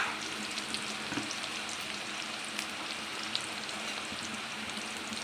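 Thinly sliced onion frying in hot oil in a kadai, a steady close crackling sizzle with occasional small pops, continuous and fairly quiet with no voices.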